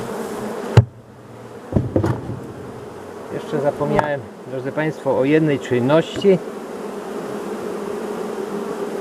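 Honey bees buzz steadily at an open hive while someone talks over them, the insect drone continuing as a low background hum throughout.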